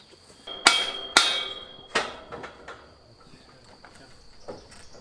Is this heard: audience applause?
no